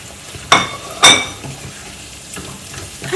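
A spoon clanks twice sharply against a pan while potato fry with chopped coriander is stirred, followed by softer scraping and a light sizzle underneath, close by with no talking.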